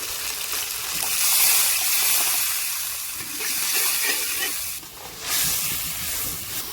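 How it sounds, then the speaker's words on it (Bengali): Water poured onto frying mustard-paste masala sends up a loud, rushing hiss of steam that swells and fades in waves, close and continuous. "সরষে বাটা জল দিয়ে মশলাটা কষিয়ে দিচ্ছি"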